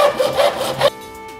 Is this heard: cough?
no